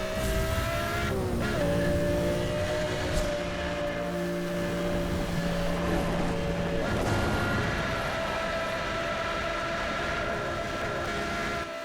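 A loud, sustained sports car engine roar with steady high-pitched whine in Need for Speed: Hot Pursuit Remastered, shifting pitch briefly partway through, continuous and close.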